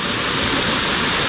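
Waterfall number seven on the Seven Waterfalls hike in Juayua roars close and loud, a dense, constant rush of falling water with no pauses.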